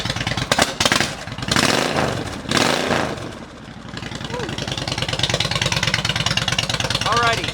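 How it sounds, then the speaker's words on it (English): A motorcycle engine idles while warming up, loud and close, with a couple of revving surges early on before it settles into a steady, even idle rumble. "I'm going to let the bike warm up for a minute"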